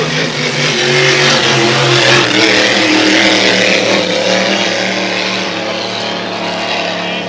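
A Packard-powered unlimited hydroplane racing boat opens to full throttle during time trials at the Valleyfield Grand Prix, its engine a loud sustained roar that stays steady and dominant for the whole stretch, with no voices.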